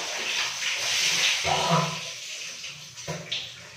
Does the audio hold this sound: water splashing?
yes